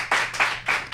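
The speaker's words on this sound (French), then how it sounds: "Bon applaudissement, effectivement." Hands clapping in a few quick bursts of applause from an audience at a filmed discussion held in a brewpub, close and fairly loud with no talking over it.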